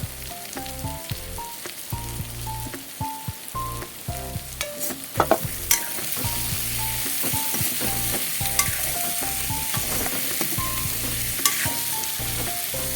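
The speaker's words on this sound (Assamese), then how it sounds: "ভালদৰে লৰাই আকৌ ঢাকোন মাৰি দিম" Lentil dal and potatoes are stirred in a sizzling pan while an egg dal curry cooks, with steady frying hiss, scraping strokes, and a melodic tune playing throughout.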